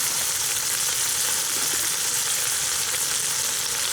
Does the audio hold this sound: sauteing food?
yes